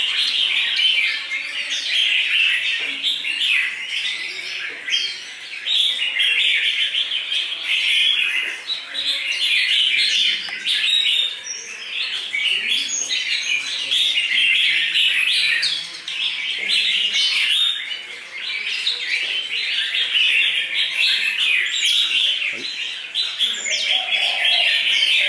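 A red-whiskered bulbul sings in repeated bright chirping phrases, loud and close, continuing almost without pause, with faint cooing birds in the background.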